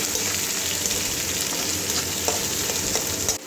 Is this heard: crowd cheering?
no